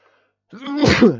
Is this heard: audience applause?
no